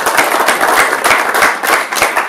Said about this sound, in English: Please can we have another round of applause?